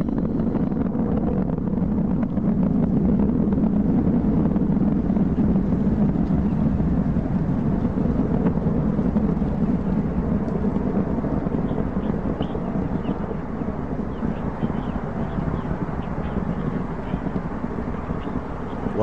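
An Atlas V rocket launches the New Horizons spacecraft, a loud, dense, continuous roar that holds steady for the whole stretch with no gaps.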